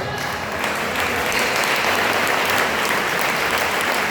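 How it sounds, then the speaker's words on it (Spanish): A church congregation applauds loudly and steadily, the dense clapping filling the room for several seconds with no speech over it. "Dale un aplauso al Señor"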